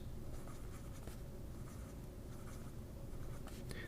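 A Pen BBS 500 fountain pen with a juicy nib writing on paper, close and quiet scratchy strokes with soft rhythmic scraping throughout, no talking.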